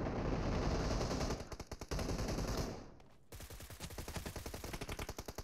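Rapid automatic gunfire in PUBG Mobile, loud sustained bursts with a brief lull, then a clear rhythmic string of shots.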